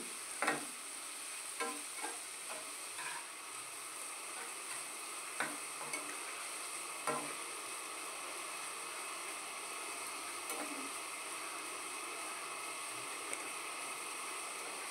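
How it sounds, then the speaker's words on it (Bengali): Vegetables gently stirred in a pan over low gas for a no-onion, no-garlic vegetable chow mein, giving a soft continuous sizzle with occasional light scrape-and-tap stirring strokes, close and quiet, no voices. "এইভাবে আমি হালকা হাতে একটু সবজিগুলো হালকাভাবে নেড়ে নেব।"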